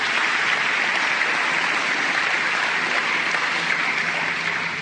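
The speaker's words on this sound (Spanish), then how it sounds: "Démosle un aplauso, está haciendo un trabajo" A church congregation applauds steadily, a dense even wash of clapping that holds at a constant level throughout.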